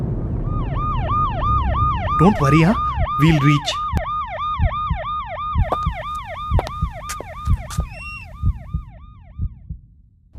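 An ambulance siren wails in a fast, repeating up-and-down pattern, loud and close, with a short spoken line and sharp clicks mixed in.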